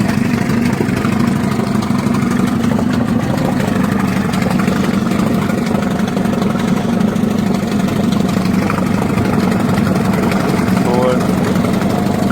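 A Crescent/Volvo Penta 25HP two-stroke outboard engine idles steadily and loudly up close, a constant droning rumble throughout with a person talking over it.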